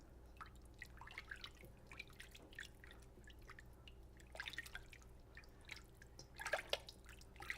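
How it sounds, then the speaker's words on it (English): Water drips and trickles while raw chicken pieces are rinsed for a Hyderabadi chicken curry, giving irregular soft splashes and drops over a steady low kitchen hum, growing busier toward the end. "rinsing the chicken in some water."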